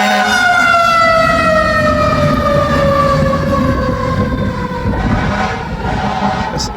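A New York fire truck siren wails loudly and close, its rising and falling tone sweeping continuously over a heavy engine and street rumble as the truck passes.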